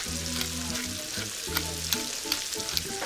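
Brussels sprouts and bacon sautéing in oil, a continuous close sizzle with light clinks and stirring scrapes, no speech.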